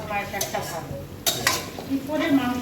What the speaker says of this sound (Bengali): তো দেখুন ভালো করে নাড়াচাড়া করে আমি গাজর বিনসটা ভেজে নিচ্ছি।